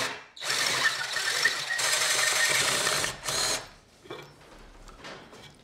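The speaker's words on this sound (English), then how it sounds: "that managed to cut a fairly decent circular tenon" A machine cuts a circular tenon on the end of a wooden deckchair part. It gives a loud, close, buzzing whir with a short break, a brief final burst, then fades to faint rattles.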